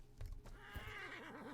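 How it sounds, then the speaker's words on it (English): A horse in the video game ATLAS gives a short, clear neigh. The whinny rises and wavers over faint hoof clops at close range. "I think I scared a horse."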